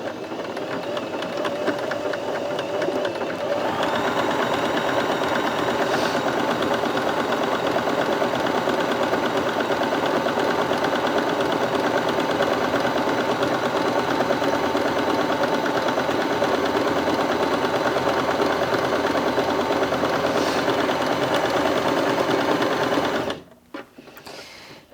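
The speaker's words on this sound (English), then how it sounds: "So I'm going to pop the fabric in underneath, drop the needle in and make a start." Bernette B35 sewing machine running a straight stitch through fabric, a steady close mechanical whirring hum with rapid needle clatter sustained for over twenty seconds, stopping abruptly near the end.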